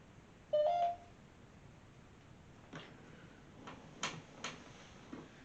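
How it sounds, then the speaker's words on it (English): A mobile phone touched during a ghost-hunting session gives a short electronic beep-like tone, followed by several faint clicks and taps in a quiet room. "You want to touch my phone one more time?"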